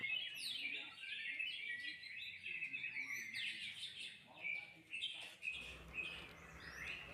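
A white-rumped shama (murai batu) sings at home, its bright, varied chirps and whistles trilling in quick phrases one after another, fairly close, with a faint low rustle beneath.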